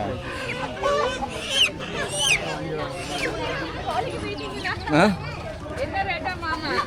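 Chickens cluck and a rooster calls among farm fowl at a busy Madurai-area market, the bird sounds close and intermittent under constant overlapping voices of traders haggling.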